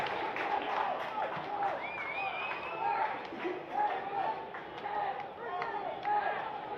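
A home crowd cheers and applauds at a WAFL Colts Australian rules football match between Subiaco and Claremont. The roar holds at a steady level throughout, with a commentator talking over it.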